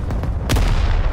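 Gunfire and artillery blasts in the video game Rising Storm, with repeated sharp shots and a heavy boom partway through over a constant low rumble of battle, loud and dense.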